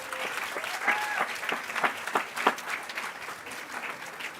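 An audience at a UC Berkeley lecture on democracy applauds with steady, dense clapping at moderate loudness. The clapping continues for several seconds without talk over it.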